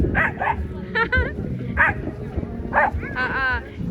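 A dog barks several times in short bursts amid outdoor background noise, with people talking nearby, at a campsite near Lake Naivasha.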